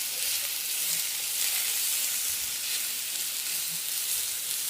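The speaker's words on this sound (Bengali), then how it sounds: "এই আলুটা আমি আগে কিছুক্ষণ বয়েল করে নিয়েছি, এখন ভেজে নিচ্ছি।" Parboiled potatoes fry steadily in hot oil, a continuous close sizzle and crackle with no speech, holding an even level throughout.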